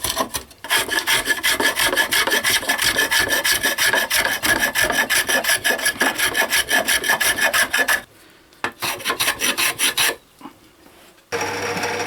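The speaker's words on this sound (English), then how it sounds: "with a little plane just to make it a bit smoother" Rapid, rhythmic scraping strokes of a small hand plane rasping across wood, close and loud, going for several seconds before stopping, then a few shorter passes.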